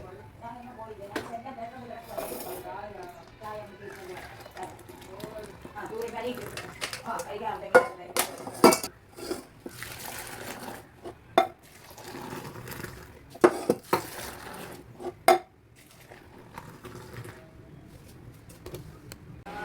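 Boiled tea is strained in a home kitchen while metal dishes clink and clatter in sharp, scattered knocks over a low background hum, with a voice heard briefly early on.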